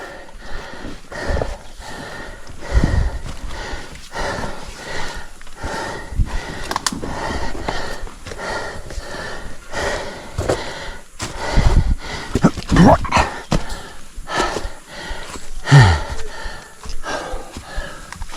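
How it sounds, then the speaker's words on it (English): Heavy, ragged breathing with gasps and sniffs during a stressful jungle climb, close and loud, with a faint low thudding heartbeat underneath that pulses and fades over about eighteen seconds, interrupted by a few brief exclamations. "You could hear my breathing and my heartbeat."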